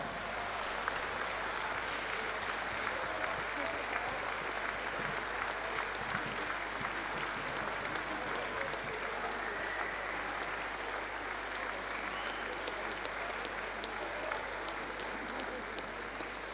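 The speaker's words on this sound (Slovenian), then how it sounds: "predlagam, da vstanete in jim še enkrat močno zaploskate" An audience at a school graduation prom dance in Slovenske Konjice applauds steadily and vigorously for a long stretch, a dense, even wash of clapping from a large crowd in a hall.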